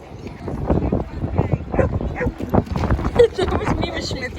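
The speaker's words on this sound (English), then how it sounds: "Stop barking." Dog barking at a beach, short sharp yips and barks scattered through the clip, loud and close, mixed in with overlapping human voices talking nearby.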